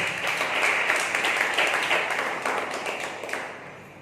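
A church congregation clapping together during a Sunday service, a lively burst of applause that gradually thins and fades toward the end.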